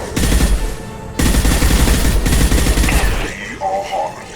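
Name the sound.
impact shot weapon firing in Mass Effect 2 video game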